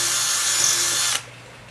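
A cordless power drill whines at high speed boring a hole for a horizontal surface-mount lock, running steadily for about a second before cutting off abruptly.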